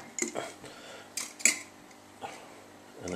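A lid twisted and clipped onto a bottle of homemade cherry vodka, giving several sharp clinks and plastic-on-glass clicks in a quiet kitchen, spaced over a few seconds.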